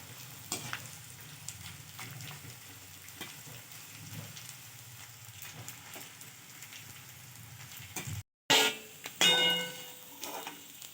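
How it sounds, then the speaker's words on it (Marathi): Steady crackling sizzle of edible gum frying in hot ghee over medium heat, with a brief gap and a louder burst of sizzling near the end; no talking. "आता उरलेल्या तुपात आपण थोडे थोडे डीग भाजून घेणार ना मस्त तळून घेऊ"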